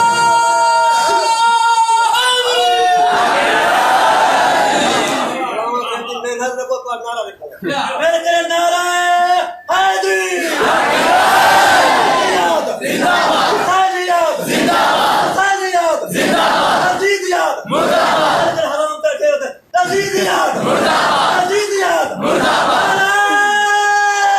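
A crowd at a religious gathering shouts slogans in loud, rhythmic unison bursts, voices rising and falling in repeated chanted phrases with brief pauses between them.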